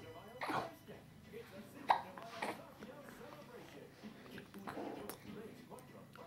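A young child hiccups a few times in a quiet indoor room, short sharp catches spaced apart, while an adult talks softly in between.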